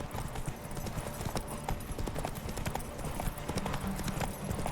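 Hooves of Roach, Geralt's horse in The Witcher 3: Wild Hunt, clip-clop in a steady rhythm through a busy city, with a brief whinny and faint voices in the background.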